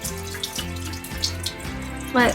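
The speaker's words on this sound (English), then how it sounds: "Let everything drain out as much" Water runs and drains from a jar of sprouting seeds, a steady splashing trickle with a low background hum and a brief louder gurgle at the end.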